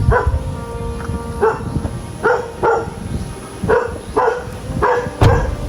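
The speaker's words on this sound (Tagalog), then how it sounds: "Mga aso po." Dogs bark at a relief-goods handout before a typhoon in the Philippines, giving about seven loud, close barks in irregular pairs and singles over low background noise.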